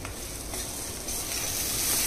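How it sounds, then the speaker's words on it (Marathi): A spice masala mixture sautéing in oil for a drumstick curry, giving a steady, close hissing sizzle that grows slightly louder toward the end, with faint stirring. Nobody speaks. "आता मसाल्याला तेल सुटेपर्यंत हे मिश्रण परतून द्यायचं आहे."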